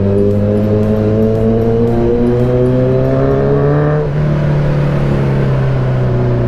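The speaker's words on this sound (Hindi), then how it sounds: "अपनी बाइक की भी साउंड सुनाएंगे उन्हें" A Kawasaki Z900 motorcycle engine revs loud and close, its tone climbing in rising sweeps and holding a strong steady drone with no one talking.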